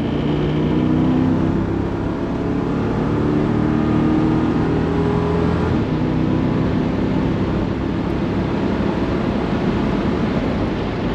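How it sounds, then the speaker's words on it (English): A DW techsolutions S124 V8 turbo car runs at full throttle on the street, heard from inside the cabin as a loud, continuous engine roar that holds steady throughout. "So we're going to do a full throttle run."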